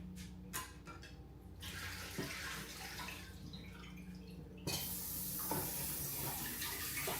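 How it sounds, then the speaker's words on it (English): Tap water runs while a French press is rinsed out, a faint, steady splashing and trickling that grows slightly fuller toward the end. "Rinsing out my French press"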